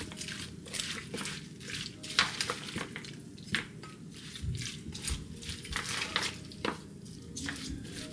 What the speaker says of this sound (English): I'm just mixing everything with my hand together